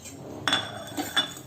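A metal utensil clinks twice against a small pan while fennel, cumin, pepper, cinnamon and cloves dry roast, with a faint steady background hiss between the sharp taps.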